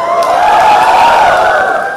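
An audience at a lecture cheering, a loud sustained burst of shouting and whooping voices that holds steady for about two seconds and fades slightly at the end.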